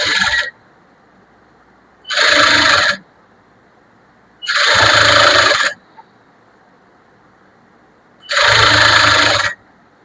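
Bursts from a sewing machine stitching a blouse, four loud runs of about a second each separated by quiet pauses, with no talk.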